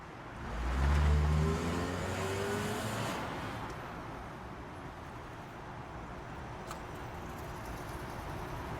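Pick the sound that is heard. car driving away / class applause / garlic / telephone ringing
car driving away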